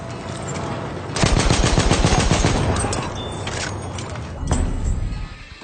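Gunfire in a World War I first-person shooter on PS4: a rapid machine-gun burst rattles for a couple of seconds over battlefield noise, followed by scattered shots and another loud burst.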